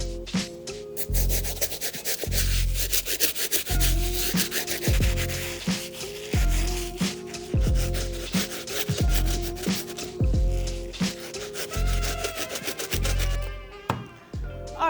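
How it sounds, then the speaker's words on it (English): A stiff bristle brush scrubs the outsole and midsole of a Tiffany Diamond Dunk sneaker in quick, rhythmic back-and-forth rasping strokes, loud and close throughout with no voices. "I'm also going to hit this outsole using our stiff bristle brush"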